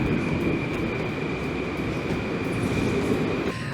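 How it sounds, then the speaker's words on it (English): A train in a Moscow metro station gives a loud, steady, continuous roar with a faint high whine. The noise holds level for several seconds without any voices. "this is, by the way, the closest metro station to the hospital"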